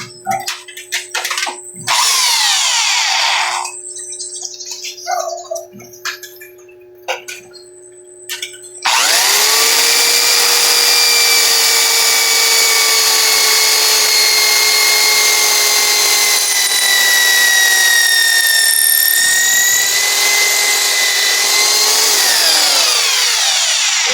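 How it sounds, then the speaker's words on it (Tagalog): A power drill boring a hole in wood runs continuously at high pitch, loud and close, after a few seconds of quieter clattering and handling noises. "Siyempre, kailangan natin ng barena."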